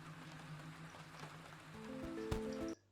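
Rain patters steadily as ambient game audio in the Rain World Downpour trailer, with low tonal notes swelling near the end before the sound cuts to silence.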